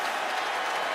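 Crowd applause at an LSU vs Alabama college football championship game, a steady broadband wash of clapping filling the whole second at moderate level, with no distinct voices standing out.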